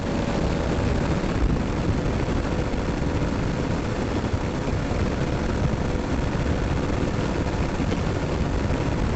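Motorbike speeding on a highway in fifth gear at around 119 km/h, a dense, continuous roar of engine and wind rush, loud and unbroken with no voices.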